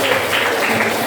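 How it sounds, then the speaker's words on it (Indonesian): Brief burst of applause from a classroom group cheering the first student team after its presentation, a steady broadband clatter of many hands lasting about a second. "Tepuk tangan untuk kelompok 1."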